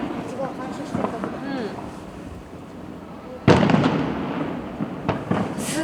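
Fireworks at a fireworks festival boom and echo off surrounding mountains, with one loud close burst followed by a rolling reverberant tail and smaller distant pops, while people talk quietly nearby.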